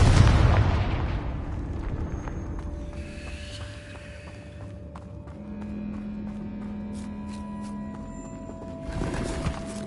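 A Confringo fire spell in Hogwarts Legacy opens with a loud booming blast that decays over a second, then quiet sustained game tones; a second, softer burst lands near the end.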